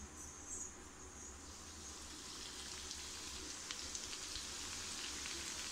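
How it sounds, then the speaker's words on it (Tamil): Chicken pieces fry in hot oil on a low flame for homemade KFC-style chicken, giving a steady, fairly quiet crackling sizzle that grows slightly denser toward the end. "இப்போ வாங்க ஃப்ரை பண்ணி எடுத்துடலாம்."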